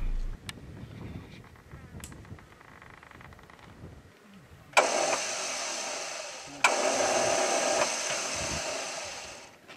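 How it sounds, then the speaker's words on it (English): Vehicle starter motor playing up: quiet rumbling and clicks first, then two loud, sustained whirring cranking bursts, the second starting with a sharp click and running on to the end. "Sounds like the starter motor's playing up too now after all that heartache."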